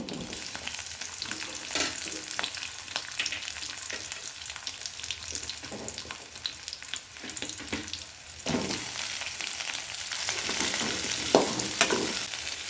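Onions frying in a pan with garlic, ginger and Byadgi chilies for matar paneer, a steady close sizzle with occasional scrapes of stirring.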